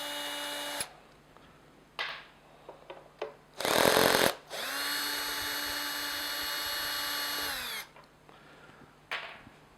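A cordless screwdriver whirs in several bursts while backing the top screws out of an Atlantic dive compressor, with one long steady run and shorter spurts and clicks between them, close up and loud, no voices.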